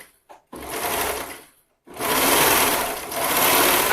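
Sewing machine stitching elastic into small swim bottoms, two steady whirring runs of stitching separated by a short pause, close and loud with no talking.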